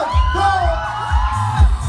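A crowd of audience members at an overseas Filipino barrio fiesta in Dubai shouts and cheers together in a sustained, loud roar, with whoops rising and falling across the full stretch.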